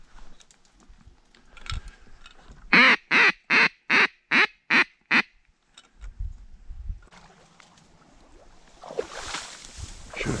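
Wood ducks on a Nebraska slough give a quick run of eight evenly spaced, loud quacking calls, followed by quieter rustling and outdoor noise.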